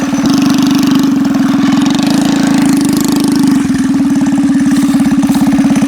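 A small stationary engine mounted on a motorized skateboard runs steadily up close, a loud, rapid, chugging drone like a lawn mower at idle, holding an even pace with a slight wobble midway.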